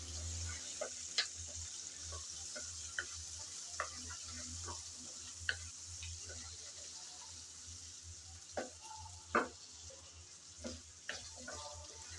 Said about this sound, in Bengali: লবণ আর হলুদ দিয়ে আলু ভালো করে ভেজে নেব।